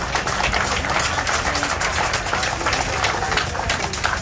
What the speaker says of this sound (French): Nous applaudissons Yoshal